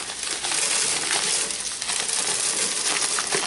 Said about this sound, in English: So we start off with putting sand in.